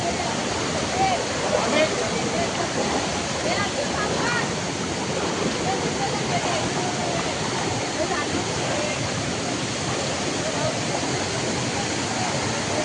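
A loud, continuous roar of rushing water from a nearby waterfall in Rajapur, Konkan, steady and broadband throughout, with voices faintly mixed in.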